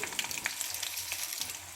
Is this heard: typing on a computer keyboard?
no